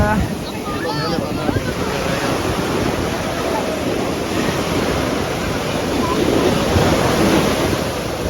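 Ocean waves rolling in at Pondicherry beach at sunrise, a steady loud wash of surf with wind buffeting the microphone throughout.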